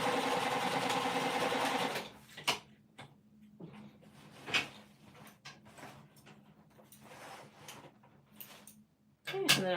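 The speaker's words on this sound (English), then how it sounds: "I'm sewing my second row" A domestic sewing machine runs steadily for about two seconds while stitching the second row on a winter crescent bag. Short taps and clicks follow, and the machine starts again briefly at the very end.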